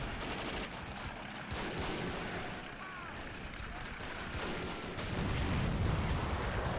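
Gunfire crackles through a war video game set at the Battle of Elaia–Kalamas, with bursts of rifle and machine-gun shots and a heavier blast near the end, moderately loud under a steady battle din.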